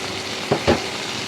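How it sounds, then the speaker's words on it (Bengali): Ginger-garlic paste frying in a pan with browned onions, with a steady sizzle and two short stirring scrapes of a spoon near the middle. "আদা রসুন বাটাটা ভালোভাবে একটু নেড়ে নেব একটু হালকা করে কষিয়ে নেব"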